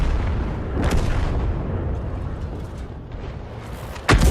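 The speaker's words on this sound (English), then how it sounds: "Lovely strike there by Ramtough. 221 hit points, 2 critical hits" An M44 artillery shell strike lands in a tank video game, a deep rolling boom that swells and fades across several seconds before a sharp burst near the end.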